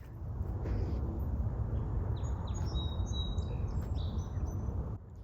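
A sparrow chirps in short, thin high calls, several scattered notes over a steady rushing background noise, fairly faint and somewhat distant.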